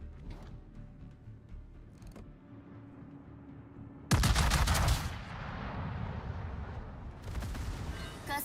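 Warship guns fire in the naval combat game World of Warships, with one sudden, heavy booming salvo midway followed by a rumbling tail and a second burst of crackling shots, set against quiet background sounds.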